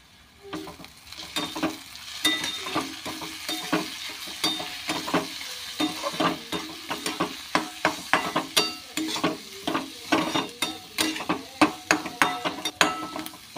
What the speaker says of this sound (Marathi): अर्धा चमचा इथे घरगुती काळा मसाला आणि आपण हळद घेतलेली आहे. आता हे छानपैकी आपण परतून घेऊया